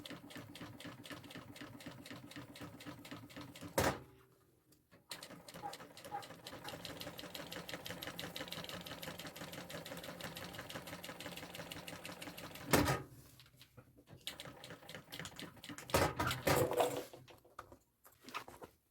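A sewing machine stitching a draped fabric bag, running in long steady bursts of fast rhythmic clatter, with short pauses and a few sharp clicks between runs; close and fairly quiet, no talking.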